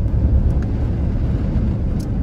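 Strong wind buffets a moving truck, a heavy low roaring rumble with gusty swells that stays loud and constant throughout, with no voices.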